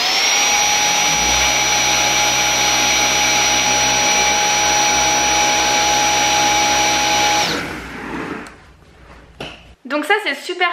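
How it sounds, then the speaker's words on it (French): Cordless vacuum cleaner running indoors, a loud steady high-pitched whine and whoosh that switches off after several seconds, followed by brief rustling and a voice speaking near the end. "Je vais donc vous montrer ce que ça met au niveau de l'écran quand j'aspire"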